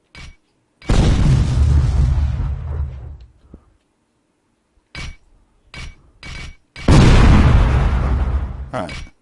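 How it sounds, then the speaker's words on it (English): Two grenade explosions in an Unreal Development Kit game, each a loud booming blast with a long rumbling decay, separated by a few short clinks and thuds in between. "Throw a grenade, there we go."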